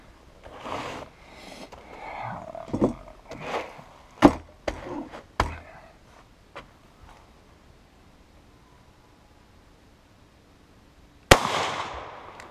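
A French Lebel Model 1886/93 rifle in 8x50R Lebel fires one loud, sharp shot near the end, after a stretch of handling clicks and knocks with no speech.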